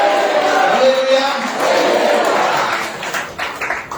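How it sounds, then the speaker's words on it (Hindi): A church congregation claps loudly and shouts hallelujah during a sermon, a broad crowd roar with scattered claps that swells and then tails off into rougher bursts, voices mixed throughout. "जोर से ताली बजाकर बोले, हालेलुया"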